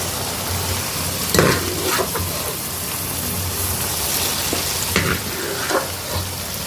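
Grated carrots cooking in sugar syrup for carrot halwa give a steady close sizzle and bubbling hiss, with a few scraping stirs and light utensil knocks rising over it. No one speaks.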